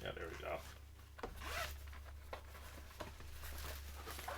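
Zipper along the bottom of a subscription-box tote bag pulled open in a few short rasping strokes, close by, with soft fabric rubbing and handling noise around it.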